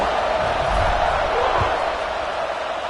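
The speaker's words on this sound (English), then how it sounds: "this crowd is buzzing after that last score" A football stadium crowd buzzes in a dense, continuous roar just after a touchdown in a Florida State versus Florida game, steady and loud throughout with a few low thumps underneath.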